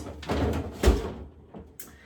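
A refrigerator drawer for citrus slides open or shut in a kitchen, giving a few close rustling knocks with one firmer thud near the middle and a brief light clack toward the end.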